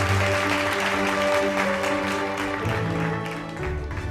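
Audience applause greets a startup team walking on stage at a televised healthcare innovation grand finale, a steady dense wash of clapping over sustained stage music that dips slightly near the end.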